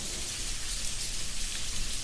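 Steady rain falls continuously as a dense, even hiss of countless drops with no pauses, filling the scene alone without any voices.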